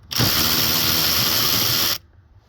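A power driver whirs steadily for about two seconds while a 7mm bolt is removed from the instrument cluster of an F-150, close and loud, then stops abruptly.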